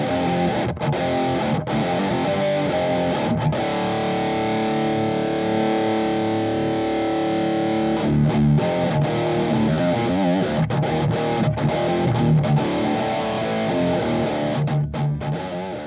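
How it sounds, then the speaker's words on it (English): Heavily distorted electric guitar through a BOSS ME-90 X high gain amp model with a custom impulse response, chugging riffs and sustained chords with several abrupt stops and restarts, loud and close, no voice. "the next clip I'm going to show you is the X high gain amp model, and I'm going to use an impulse response I've made that should flatten the output"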